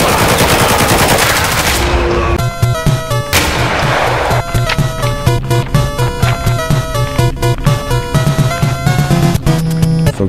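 Rapid gunfire bursts in the Roblox shooter Hellmet, dense and loud, with repeated shots crackling over a steady tonal game soundtrack throughout.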